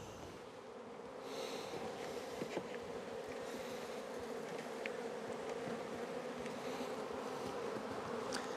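Steady, dense buzzing hum of many honey bees in a strong package colony hive, close and continuous throughout with no voices.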